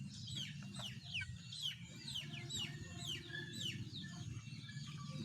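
Backyard chickens clucking and chirping softly, a busy overlapping flurry of small calls over a low murmuring background.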